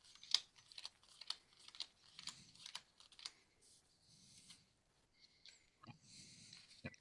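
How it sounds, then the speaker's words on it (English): A deck of playing cards is shuffled at a tabletop role-playing game session, producing faint, crisp riffling clicks in scattered bursts with quiet gaps between them. "Taking this deck and shuffling it."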